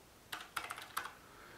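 Keystrokes on a computer keyboard typing a GitHub URL, a few quick separate clicks in an irregular run, close and fairly quiet, with no voices.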